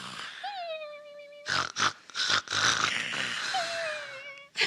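Several people imitate snoring together with their voices. Wheezy, whistling drawn-out breaths mix with rough, rhythmic snorts in a close, loud, overlapping chorus.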